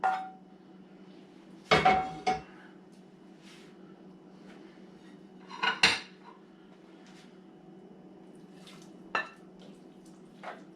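Meat going into a hot pot for chili colorado, with a couple of sharp clattering bursts of utensil and pan contact over a steady low kitchen hum, then a few lighter clinks.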